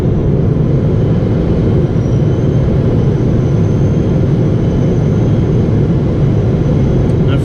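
A Singapore Airlines airliner, flight SQ181, landing at Singapore airport makes a loud, steady broadband roar of engine and airflow noise inside the cabin, constant throughout with no talk.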